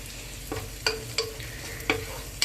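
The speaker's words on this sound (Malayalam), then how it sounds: "ആ ചെറുനാരങ്ങയുടെ നീര് ചേർത്തിട്ട് പിന്നെ ഇങ്ങനെ ഇളക്കാം" Vegetable pulao dressed with lemon juice is stirred in a pan: four or five distinct scraping strokes of a spoon over a soft background sizzle, close and clear, no talking.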